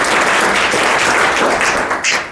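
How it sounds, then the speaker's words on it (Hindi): Loud, dense applause from an audience at a business meeting, steady clapping for the speakers throughout the short stretch, tapering slightly at the end. "तो एक जोरदार ताली होनी चाहिए मिस्टर अंकित सर और मिस्टर रुपेश सर के लिए"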